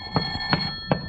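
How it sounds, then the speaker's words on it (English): Telephone ringing in a 1950 radio comedy, three short evenly spaced rings at moderate volume over a faint steady hum, with no talk. "Will you get that phone, please, Mrs. Davis?"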